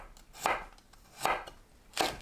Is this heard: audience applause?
no